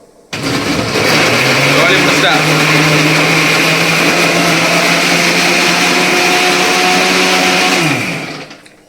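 An old mixer grinder whirs loudly and steadily for several seconds while blending a weight-loss drink, then winds down, with a person speaking briefly over the motor.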